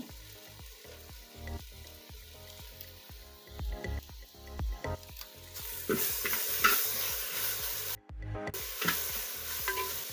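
Masala with turmeric frying in a pan for clam sukka, with steady close sizzling and repeated scraping strokes of a spoon stirring it, growing louder and brighter partway through.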